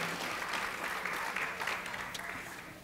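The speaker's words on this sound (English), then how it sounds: "let's give all of our classes a round of applause" An audience at an early learning center's Black history program applauds its classes and teachers, a dense, even wash of clapping that fades slightly toward the end.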